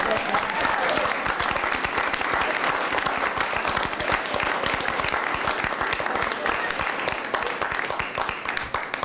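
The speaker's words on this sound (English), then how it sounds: "I think that deserves a round of applause." Applause at a school board meeting honoring a winning coach: a sustained round of clapping from a roomful of people, dense and even throughout, with a few voices mixed in.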